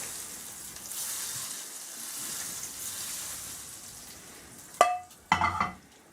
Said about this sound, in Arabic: نحط عليها المكسرات وشوي من الزيت الحامي